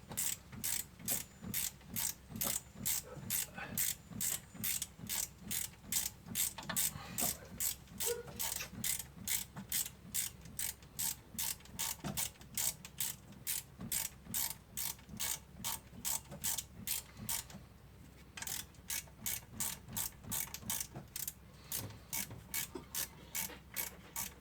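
Ratchet wrench clicking steadily while tightening alternator bolts on a Toyota Previa (Tarago/Estima) van, a fast, even run of close metallic pawl clicks that continues almost without pause, with one short break near the end.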